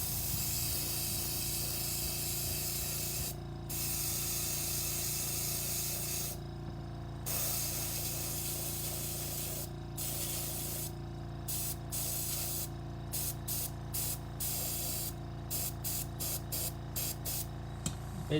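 Airbrush spraying silver paint onto fly-fishing popper heads, a steady close hiss broken by short pauses that grow more frequent toward the end, with no talk.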